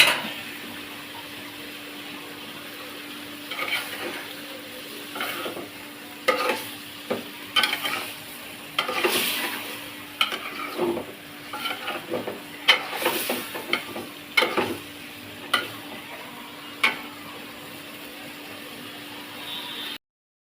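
Okra and potato curry with fried fish simmers and frys in a pan, a low steady hiss broken by repeated clattering stirs and scrapes of a spoon, and no one speaks.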